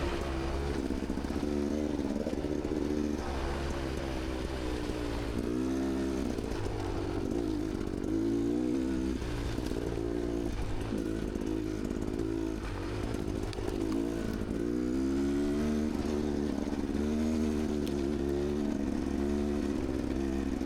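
Beta X-Trainer dirt bike engine out on a trail loop at New Straitsville, revving and dropping through the whole stretch with shifting pitch, moderately loud and steady, with no talk over it.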